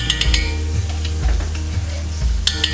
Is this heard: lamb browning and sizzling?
yes